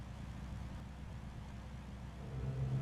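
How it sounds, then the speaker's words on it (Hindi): A car engine rumbles low and steady at moderate distance, slowly turning onto a road, with a faint rising tone near the end; no one speaks. "गाड़ी धीरे धीरे उस रास्ते पर मुड़ती है।"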